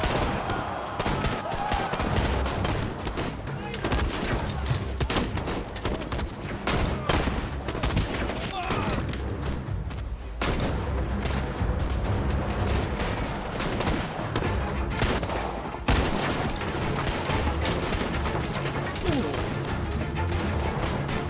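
Heavy gunfire in a cutscene from the video game Syberia: The World Before, with sustained volleys and crashing impacts piling up loudly and continuously, bullets punching through wooden cover.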